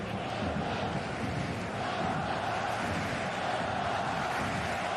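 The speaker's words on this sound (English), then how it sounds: "The crowd certainly responding." Football stadium crowd at a Barcelona vs Athletic Bilbao La Liga match, a dense, continuous roar of many voices that swells and holds steady, loud and unbroken throughout.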